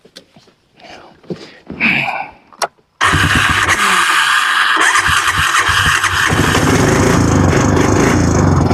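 A SuperSplit HD wood splitter's small engine is pulled to start after a few quiet seconds of handling, then catches and runs loud and steady near the microphone, its pitch shifting slightly as it settles.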